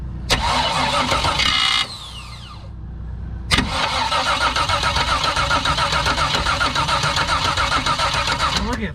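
A race car engine cranks with a loose starter motor moving against the flex plate, a loud close grinding churn that stops, then starts again and runs steadily to the end.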